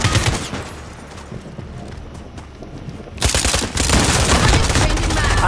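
Rapid bursts of gunfire crackle close by, a dense volley of shots that grows louder and more continuous toward the end.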